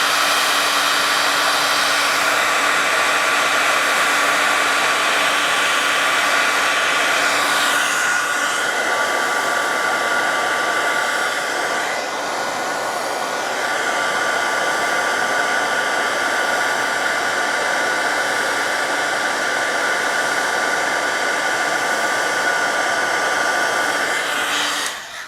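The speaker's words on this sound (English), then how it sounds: "I'll hit this with my heat tool until it's melted" A heat tool melts embossing powder on cardstock with a steady, loud blowing whir like a hair dryer, holding constant for about 25 seconds before cutting off.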